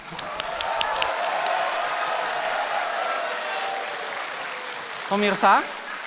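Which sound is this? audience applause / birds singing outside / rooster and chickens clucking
audience applause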